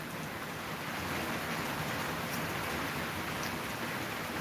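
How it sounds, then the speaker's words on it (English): Heavy rain pours steadily in a dense, constant wash of noise on a stormy day, with no voices. "As you can see, it's raining. A lot of rain and a lot of thunder today."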